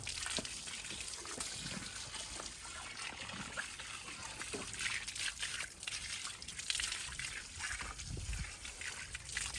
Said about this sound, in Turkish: Ayak ne kadar soğuk suyla yıkarsanız gayet iyi olur